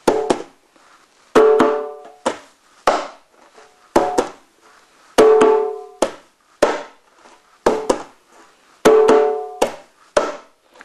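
Bass, treble and slap strokes combined on a djembe hand drum in a slow, steady pattern of crisp hand hits, some in quick pairs and some ringing tones, close and clear without any voices.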